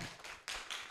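A short burst of audience applause at a monthly discussion forum on ageing, three quick swells of clapping, fairly close and without voices.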